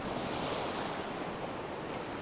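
Ocean waves washing in with a steady broadband wash of surf and some wind noise, fairly soft and continuous, no voices.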